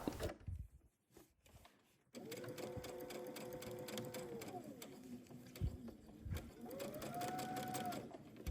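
A domestic sewing machine stitches a seam on a summer dress, running in a steady whirring hum for several seconds, pausing and easing its speed, then picking up again close up.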